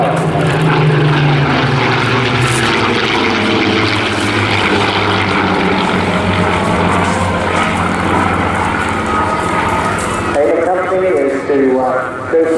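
Propeller engines of the Rolls-Royce Heritage Flight's historic aircraft drone loudly and steadily throughout an airshow display at Eastbourne, tailing off near the end as a voice speaks over the noise.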